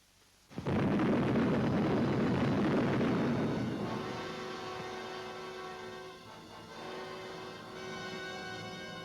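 The first atomic bomb test explosion in July 1945 erupts suddenly from near silence into a massive, loud, sustained roaring blast. The blast rumbles on for several seconds, then settles into a lower, droning rumble with tonal layers.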